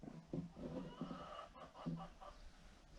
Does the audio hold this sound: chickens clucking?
yes